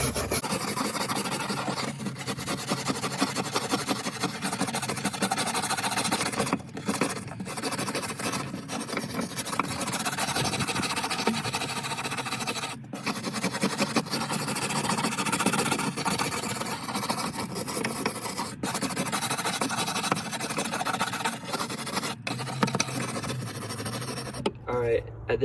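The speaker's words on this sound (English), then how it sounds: "we're going to take the wire brush and we're going to start scraping off the rust." A wire brush scrubs rust off the spare tire well of an Acura RSX, making a steady, dense rasping scrape that runs almost without a break for about 25 seconds. It is close and loud, with a brief pause near the end.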